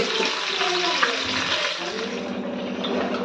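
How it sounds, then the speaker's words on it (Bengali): Fish crackles and sizzles in hot oil with a steady hiss and occasional sharp pops, close up and continuous. "সাথে দেখো বন্ধুরা মাছটা ফাটছে"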